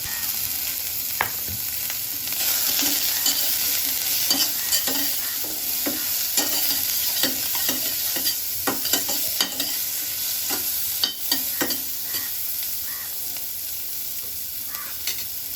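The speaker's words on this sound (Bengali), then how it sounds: "পেঁয়াজ দিয়ে দিচ্ছি, টুকরো করা পেঁয়াজ, ছোটো করে টুকরো করা পেঁয়াজ" Small chopped onions frying in a pan, a steady loud sizzle broken by frequent close scrapes and knocks of a spatula stirring, no voices.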